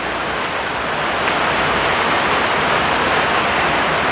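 Steady, dense hiss of rain falling, loud and unbroken throughout with no voices.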